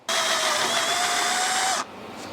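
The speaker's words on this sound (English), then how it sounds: "I am ready to drill holes in the roof" A power drill whines steadily at high pitch for nearly two seconds, loud and close, drilling holes in a Subaru car roof, then cuts off abruptly into quiet room tone.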